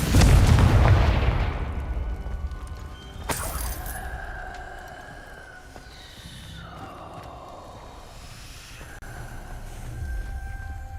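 Confringo blasting curse from Hogwarts Legacy going off as a loud, deep explosion at the start, then fading into a rumbling tail under lingering magical tones.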